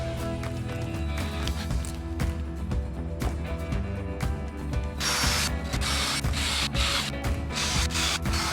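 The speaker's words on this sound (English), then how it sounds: "Let's repeat the same process, drilling pilot holes and using the wood taps and attach the steps." A drill bores pilot holes and drives wood taps into a wooden step stool, a steady whirring motor with clicking ratchet-like chatter throughout, louder and harsher in the second half, close by with no voices.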